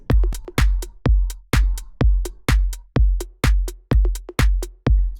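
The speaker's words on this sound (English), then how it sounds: "If you are not adding reverb, then it would just sound like this." Dry percussion hits with no reverb in an FL Studio organic house track, a steady rapid groove of sharp clicky strikes over punchy low thumps, loud and alone.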